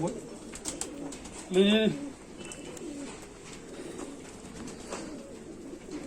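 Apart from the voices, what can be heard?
golden teddy pigeon cooing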